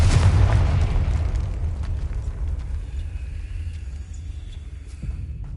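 A Confringo explosion spell in the video game Hogwarts Legacy goes off as a loud, deep boom that rumbles and slowly fades over several seconds, with no talking.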